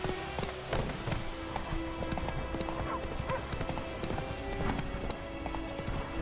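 Roach, the horse in The Witcher 3, galloping with rapid, loud hoofbeats throughout, near and continuous, over game ambience and a faint voice.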